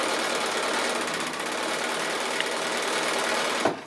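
Steady, close whirr of a sewing machine feeding paired quilt block pieces through with quarter-inch seams, running continuously without pause before a small knock at the end.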